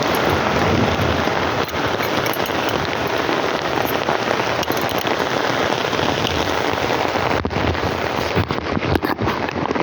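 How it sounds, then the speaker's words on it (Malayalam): Steady, heavy rain pours on surfaces outdoors for the whole stretch, a dense, even hiss with no letup and no voices. "മഴ പെയ്യുന്നു."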